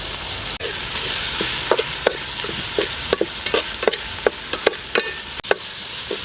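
Tomatoes and onions sauté with rock salt in a pan for Chettinad fish curry, a steady loud sizzle and crackle broken by regular scraping stirs of a spoon against the pan.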